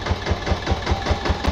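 Tractor engine idling steadily at close range with a regular low thumping beat, about five pulses per second, and no voices over it.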